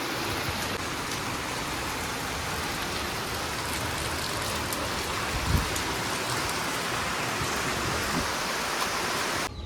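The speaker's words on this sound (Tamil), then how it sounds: "பயங்கரமாக மழை பெஞ்சிச்சு." Heavy rain pouring down steadily at a country chicken farm, a dense continuous hiss of drops on surfaces with a brief louder thud midway, no voices.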